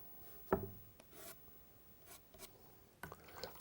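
A small scrubbing brush rubs across watercolour paper to lift unwanted paint, heard as a few faint, short scratchy strokes separated by quiet pauses, with no voices.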